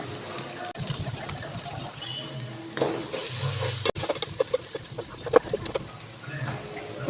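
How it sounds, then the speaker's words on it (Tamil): Turmeric, chilli powder and biryani masala are sautéed and stirred in a pan for chicken biryani, a soft sizzle with scraping strokes under intermittent talk. "இப்போ கொஞ்சமாக மஞ்சத்தூள், மிளகாய்த்தூள், பிரியாணி மசாலா போட்டு வதக்கி விட்டுப்போம்."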